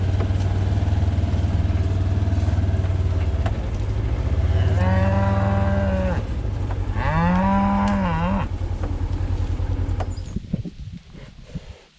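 Two bulls fighting on a farm bellow loudly, with two long, drawn-out moos close to the microphone, set over a constant low engine-like rumble that drops away near the end.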